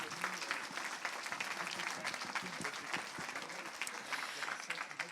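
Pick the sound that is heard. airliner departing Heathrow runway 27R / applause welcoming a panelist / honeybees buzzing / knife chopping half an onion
applause welcoming a panelist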